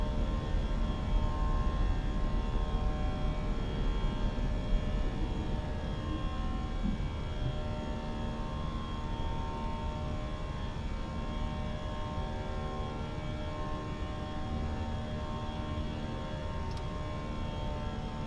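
BA A320 engines at climb thrust after takeoff in a flight simulator, a steady, moderately faint tonal drone with layered hum that holds constant throughout.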